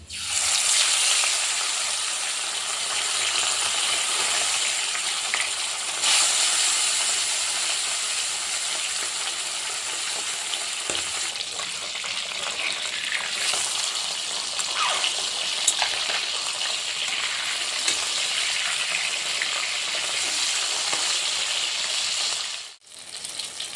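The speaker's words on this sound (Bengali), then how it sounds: "গরম হয়ে গেল, মাছটা দিয়ে দিলাম।" Tilapia fish coated in salt and turmeric fries in hot oil in a pan, giving a steady, loud hiss and crackle that runs without pause, with small pops and spatters scattered through and a brief dip near the end.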